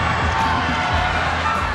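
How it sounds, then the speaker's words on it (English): In the hub of the video game Shadowgun Legends, a crowd of fans cheers and shouts in a dense, steady wash of noise. It lasts the whole short moment at moderate loudness, with no clear single voice. "All that noise is your adoring fans cheering for every little thing that happens."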